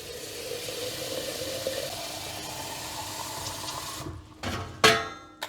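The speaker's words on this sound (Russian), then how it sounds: "Поэтому возьму смесь и хорошо промою под холодной водой." Cold tap water runs steadily into a bowl as a lentil mix is rinsed, a continuous close splashing stream that ends with a couple of clattering knocks of the bowl or sieve.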